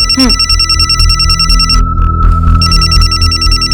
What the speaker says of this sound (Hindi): राजेश का फोन है।